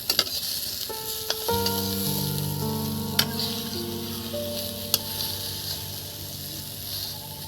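Eggplant pieces sizzle steadily in hot oil in a pan as they are flipped, with a bright continuous crackle and a few sharp clicks from the turning utensil.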